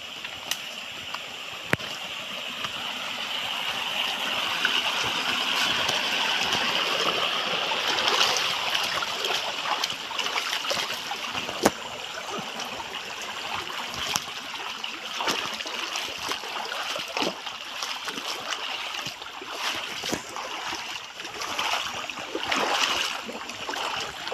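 Water runs steadily at a spring, a continuous broadband rush and trickle that stays even and moderately close for the whole stretch, with no talking.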